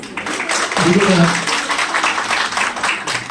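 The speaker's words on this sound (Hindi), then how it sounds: "जोरदार ताली के साथ" A crowd claps and cheers loudly and continuously while a voice talks briefly over the noise.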